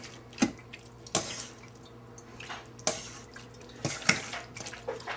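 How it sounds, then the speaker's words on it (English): Braising liquid from cooked vegetables, beside braised beef short ribs, draining in faint, sparse drips and small splashes, a handful of soft isolated plinks over quiet background hiss. "we're going to let that drain for a little while so that all the liquid separates from the vegetables"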